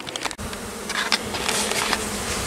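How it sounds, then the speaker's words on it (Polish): A dense, steady buzzing of many honey bees fills the whole stretch, close and continuous with small swells in intensity. "To są właśnie pszczoły komercyjne."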